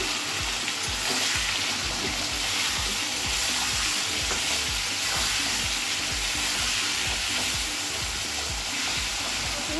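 Hog plum pieces fry in hot mustard oil with spluttering mustard seeds, left over from frying prawns, a dense, loud, continuous sizzle and crackle close up with no talk.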